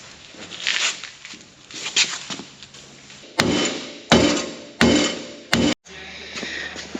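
Hammer blows on broken metal farm equipment ahead of welding, four or five heavy, sharp strikes in an uneven rhythm, close and loud, after a stretch of softer handling and shuffling noises.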